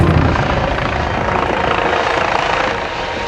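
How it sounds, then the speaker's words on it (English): A police helicopter hovers overhead during a search for a missing person with dementia, its loud, steady rotor thrum filling the air continuously and close by, with no talking. "helicopters up"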